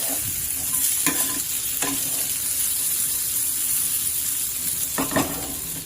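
Aloo jeera potatoes tossed with chaat masala in a hot pan, a continuous close sizzle with several distinct scrapes and clinks of a spoon against the pan as they are stirred.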